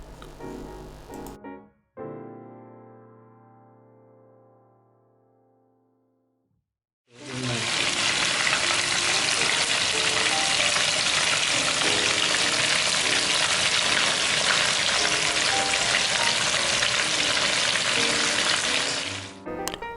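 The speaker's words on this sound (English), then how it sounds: "add in some cooking oil, bring up to a heat, and then fry the chicken" Loud, steady sizzling and crackling of chicken frying in cooking oil begins after a few seconds of quieter clatter and continues densely to the end.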